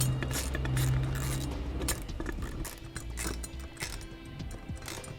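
A ratchet wrench tightens nuts on the mounting bracket for an air compressor on a Ford F-150, rapid close clicking in bursts that slow toward the end.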